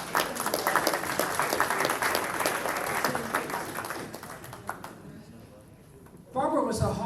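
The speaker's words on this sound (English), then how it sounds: "you can applaud" Warm audience applause in tribute to actress Barbara Rush, a full crowd clapping steadily, gradually thinning to a few scattered claps before a speaker resumes talking.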